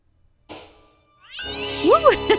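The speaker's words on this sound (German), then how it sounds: "Ja, die Katze." A cat in the point-and-click adventure game Baphomets Fluch Reforged gives a short faint sound, then a loud drawn-out meow with wavering pitch, close and clear with no talk over it.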